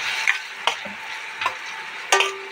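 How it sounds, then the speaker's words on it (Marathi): Onions for a prawn biryani sauté in a hot pan, a close steady sizzle broken by four sharp spoon scrapes and stirs spaced about half a second apart. "आता छान गोल्डन ब्राऊन होईपर्यंत आपण याला परतवून घेणार आहोत"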